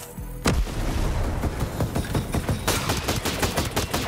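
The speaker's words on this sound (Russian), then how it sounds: "Граната пошла." Grenade blast followed by sustained gunfire in Ghost Recon Breakpoint: a sharp boom near the start, then loud, rapid overlapping shots and bursts continuing close up without pause.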